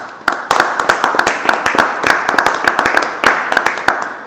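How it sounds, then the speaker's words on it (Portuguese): Church congregation claps in sharp, closely spaced bursts, the loud near hand claps running continuously with a few voices mixed underneath. "Você pode dar um aplauso ao Senhor Jesus?"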